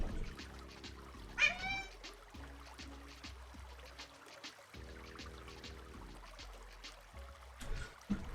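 Pet cat meowing once, a short rising cry, close but quiet amid a steady trickling, pouring background, with further faint faraway mews later.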